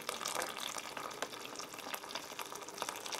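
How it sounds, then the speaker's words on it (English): Hot water pours into a U.S. cold weather MRE beef stew pouch, a continuous close hiss and splash that stays steady and fairly soft, with small gurgling crackles throughout. "it calls for 16 ounces of hot water to be poured in"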